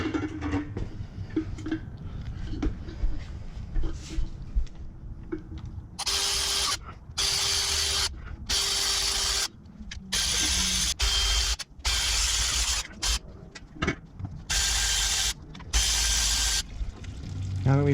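A ratchet loosens the 8mm transmission pan bolts on a Dodge Caravan, sounding as close, crisp bursts of rapid clicking separated by short pauses, with quieter handling noise and shuffling in between.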